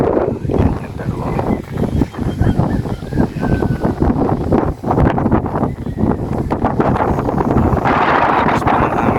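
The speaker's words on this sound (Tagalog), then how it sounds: "Lakas pa ng hangin dito." Strong wind ahead of an approaching typhoon roars and buffets the microphone in heavy, continuous gusts from start to finish.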